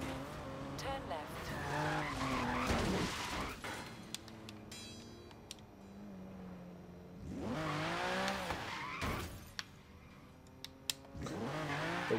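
A classic Lamborghini's high-pitched racing engine in Forza Horizon 3 wails and shifts through rising revs, with tire squeal and skidding, as a voice talks over parts of it.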